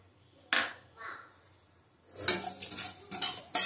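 Dried chillies, cumin and black pepper tipped into a pan for a sweet-sour mango pickle make a couple of close clinks, then a busier rattling scatter against the metal.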